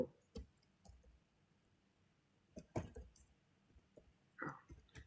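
A computer mouse clicking during a sign-in on a website, with a few scattered quiet clicks and small handling noises at close range.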